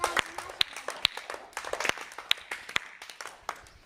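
Children in a grade 1–4 classroom clap for a classmate named Sayali during a language game: scattered, uneven individual claps rather than a steady round, fairly faint, with sharp isolated smacks.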